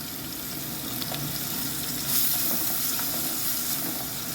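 Curry leaves sizzling in hot oil as the base for a manthal (sole) fish curry, a steady, bright crackling hiss with faint pops and a brief swell in the middle.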